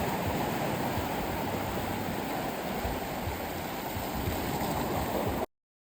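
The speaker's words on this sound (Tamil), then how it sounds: "தீவுக்குள்ள போற இந்த வழியில வர அலைகள் நல்லாவே கூடி இருக்குது" Surf rolls in along the shallow water route to a small island off the eastern coast, a steady broadband wash of waves that stays close and fairly loud for about five seconds, with no voices.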